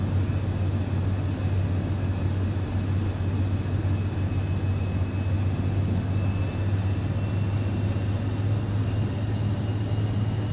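Steady engine drone of an airplane in Microsoft Flight Simulator 2024, a continuous loud hum with a low tonal band and broadband rush that stays constant, with no talking.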